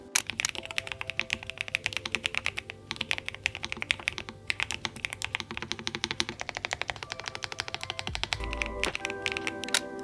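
Steady, close typing on a Nuphy Kick75 keyboard fitted with light Gateron Red Nano linear switches, a dense run of soft, quick keystroke clacks with no talking.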